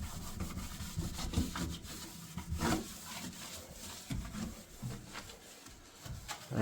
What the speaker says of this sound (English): I'm using my finger to push the scrubber into these grooves.